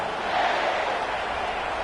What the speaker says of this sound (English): How about this crowd rattling the rafters and trying to help their defense?